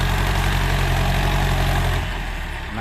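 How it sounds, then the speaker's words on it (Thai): Ford 7740 tractor engine working hard at full power while pushing out tree stumps, a loud close diesel drone that drops in pitch and eases off near the end, with no talk. "นานๆได้เจอได้จัดเต็มสูบสักทีครับสำหรับ7740"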